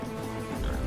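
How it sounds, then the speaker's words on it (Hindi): A pig from the film Baahubali 2: The Conclusion gives a short, faint oink, heard quietly and briefly. "सुअर"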